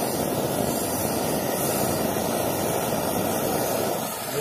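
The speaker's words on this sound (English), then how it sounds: "the way the flame is made using that, you can hear it. It sounds like a jet engine going on." A camping stove burner, an older model, roars steadily at full throttle with a dense, jet-like broadband rush that holds loud and even throughout.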